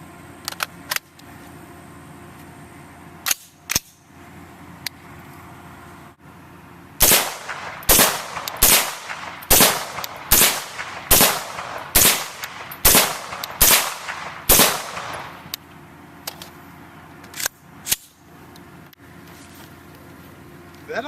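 A Kestrel 7.62 AK rifle firing 7.62x39 rounds: about a dozen sharp, loud shots in a fairly quick, uneven string, with a few scattered shots before and after and faint voices between.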